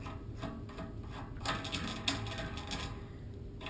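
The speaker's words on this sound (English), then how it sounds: "Loosen the valve cap." A euphonium valve cap is unscrewed, making soft close metallic ratcheting clicks and scraping over a low steady background hum.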